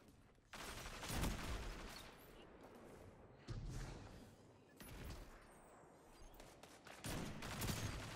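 Gunfire from a Valorant competitive match comes in a few separate bursts of shots, spaced a second or more apart, each a sharp crackle that decays quickly, fairly quiet overall with no speech.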